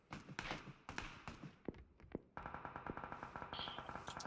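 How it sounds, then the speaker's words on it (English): Rapid gunfire crackles in a video game, starting with scattered single shots and then turning into a steady automatic burst of evenly spaced cracks, moderately loud and close. "Shots to my right."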